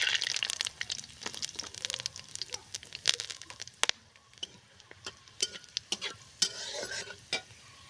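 Whole cumin seeds, bay leaf and whole garam masala sizzle in hot oil with close, crackling pops and scraping stirs in an uneven rhythm, fairly quiet and alone.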